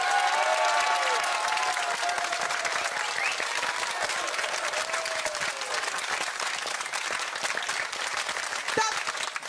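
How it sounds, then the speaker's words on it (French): A crowd at a French TV talent show for aspiring comedians claps in a full, continuous round of applause, with a few voices and cheers mixed in. It holds at an even level throughout. "Vous allez maintenant applaudir notre ami Reda."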